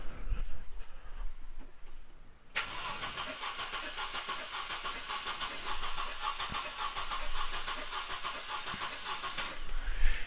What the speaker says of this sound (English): So I'm just going to go ahead now and crank the engine.